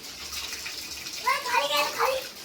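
Water runs and splashes while a tent is being washed outdoors, a soft rushing flow, with voices talking over the latter half.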